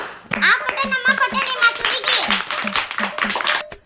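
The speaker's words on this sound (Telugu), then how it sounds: "గట్టిగా క్లాప్స్ కొట్టండి" Children clap together in steady, evenly spaced claps, loud and close, with a voice chanting over the rhythm throughout.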